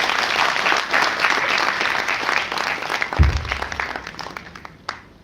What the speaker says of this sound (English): Let us give a huge round of applause to our speakers and our panelists.